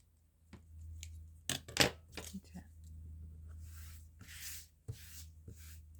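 Scissors trimming paper collage strips at close range, a few quick crisp snips and rustling paper handling, with soft talk between cuts.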